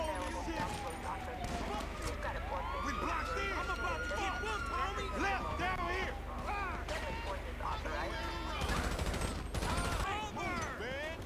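Gunfire in GTA 5 story mode, with rapid shots and bursts running under steady game noise and talking voices throughout.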